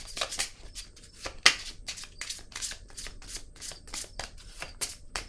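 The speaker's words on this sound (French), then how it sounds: "Je vais piger une carte rose." Tarot cards being shuffled and drawn, a dense run of quick papery riffles and flicks repeating for several seconds at close range, with no voices.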